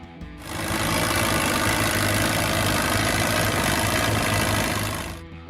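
A Case VAC small farm tractor from the 1942 era runs at a steady idle, its engine chugging evenly and fairly loud for about five seconds with no voices.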